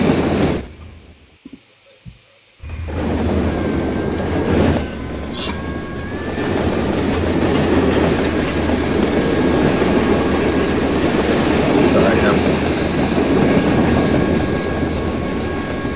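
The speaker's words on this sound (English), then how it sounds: "Probably can't even hear me over half the noises that these trains make sometimes." Heavy train rumble in the Trainz Railroad Simulator 2019 (TRS19) video game, with steady rolling noise and faint high squeals, loud and continuous after a brief quiet start.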